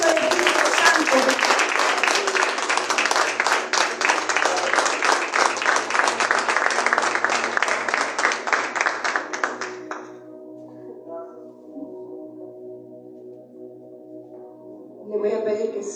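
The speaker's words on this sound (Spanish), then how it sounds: "Denle un aplauso al Espíritu Santo." Church congregation applauding loudly and steadily for about ten seconds after a call from the pulpit, then the clapping stops, leaving a quiet hum of the hall before a voice returns.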